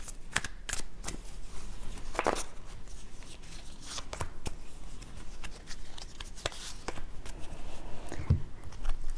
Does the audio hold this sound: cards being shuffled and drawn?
yes